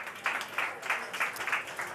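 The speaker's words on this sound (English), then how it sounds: "Give her a round of applause, everyone." Conference audience applauding a panel speaker at a climate action summit in London, a short burst of moderate clapping in a hall, fairly faint and steady, with no voices over it.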